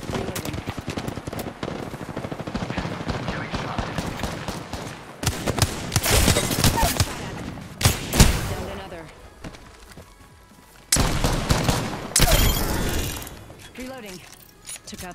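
Video game gunfire comes as rapid automatic bursts in several loud clusters with mechanical clatter between them, mixed with a voice talking over the action.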